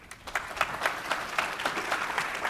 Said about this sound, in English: So please give the Michaels a warm round of applause.